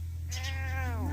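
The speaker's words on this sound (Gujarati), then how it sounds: "જોઈ લ્યો આ મારો મીંદડો છે" A tomcat gives a single loud, drawn-out meow close by, starting abruptly and falling off, over a steady low background hum.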